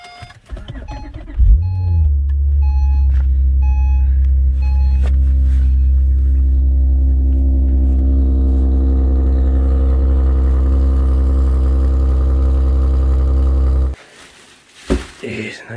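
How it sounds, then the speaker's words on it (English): Acura TLX A-Spec SH-AWD engine cold start in winter: a starter crank and catch, a brief rev flare, then a loud, steady high idle that holds before cutting off, with faint talk at the end. "Little cold start for you guys."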